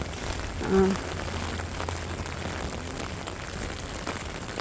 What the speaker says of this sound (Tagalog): it's raining again, huh?